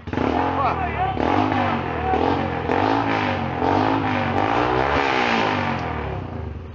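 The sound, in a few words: motorcycle climbing a small hill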